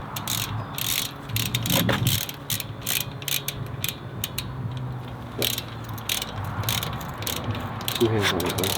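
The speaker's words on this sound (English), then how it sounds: "So we've got the torque wrench out, and we're going to torque these down to 168 inch-pounds." A torque wrench ratchets as bolts are tightened on a Ford Galaxie. Bursts of rapid clicking come repeatedly and up close, with some clanking between them.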